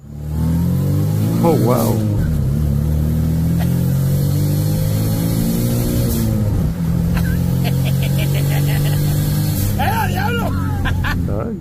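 Twin-turbo three-cylinder Mitsubishi Mirage revving hard on a dyno, a loud buzzy engine note climbing and falling through long pulls, with a brief exclamation and background voices underneath.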